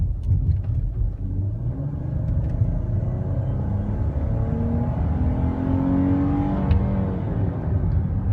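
A rear-wheel-drive Chrysler 300 with a V6 engine drives by, giving a steady low engine rumble that rises in pitch as it accelerates and stays close and fairly loud throughout, with no talking.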